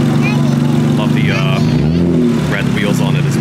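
A motorcycle with a full Redox kit and red wheels idles with a low, steady engine rumble beneath continuous nearby talking at an 86 Day car meet in Japan.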